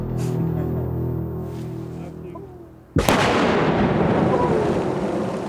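A demolition charge set off to destroy a landmine in war-torn Bosnia, one sudden loud blast cutting through low background hum and rumbling on into a long noisy roar.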